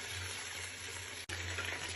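Chicken pieces frying in oil in a pan, a steady soft sizzle with a low hum underneath and a brief dropout midway, fairly quiet and close.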